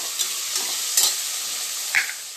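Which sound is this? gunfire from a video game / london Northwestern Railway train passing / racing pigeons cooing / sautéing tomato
sautéing tomato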